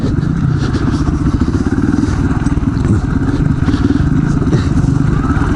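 An off-road motorcycle rides at Dove Springs OHV, its engine a loud, close, continuous throbbing drone with rough rhythmic pulsing and some clattering, steady with no break.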